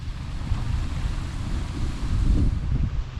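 Strong wind roars steadily across the microphone, a loud, buffeting rumble that swells toward the end, with no voices.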